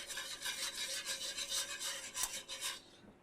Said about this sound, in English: And whisk it around.